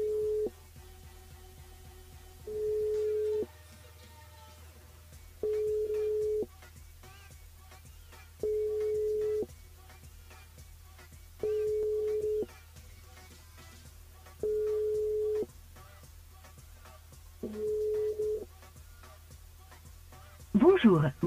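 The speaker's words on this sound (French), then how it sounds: "On appelle Morgane." An outgoing telephone call rings unanswered: a steady ringback tone repeats seven times at even intervals of about three seconds, with a voice breaking in at the very end.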